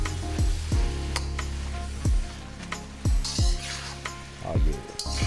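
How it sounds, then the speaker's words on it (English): Chicken and broccoli stir-fry sizzles and hisses in a pan while utensils clank and scrape against it in repeated knocks, close by. "We stir frying today, y'all."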